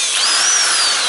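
Bosch GSB 550 impact drill running steadily at high speed, loud and close, a continuous whine with a slight pitch rise and fall and no talk.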